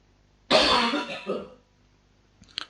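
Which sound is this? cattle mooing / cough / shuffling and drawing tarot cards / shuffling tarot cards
cough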